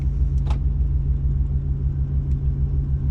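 A 1994 Ford with an automatic transmission is put through its gears while stationary, giving a steady loud low engine rumble and hum, with a brief faint click or two.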